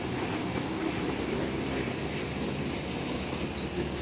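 The Jamalpur Commuter local train runs along the line with a steady, loud, continuous rumble of wheels and carriages, heard alone without voices.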